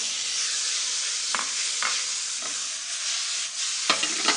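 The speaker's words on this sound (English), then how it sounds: "So I'm going to add tomatoes to this pan." Tomatoes added to a hot pan of garlic for a spiced Indian sauce: a steady loud sizzle and hiss throughout, broken by several scraping stirs.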